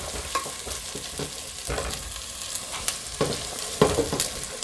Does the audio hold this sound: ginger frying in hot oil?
yes